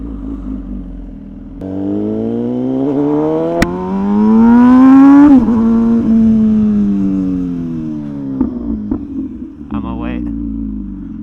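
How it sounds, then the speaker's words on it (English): An MV Agusta Rush with an SC Project exhaust rides at night, its engine note rising and falling through close, loud revs and gear changes and holding a strong roar, with a brief blip and a deceleration near the end. "just enjoy the beautiful sound on of the MV Agusta Rush with the SC Project exhaust"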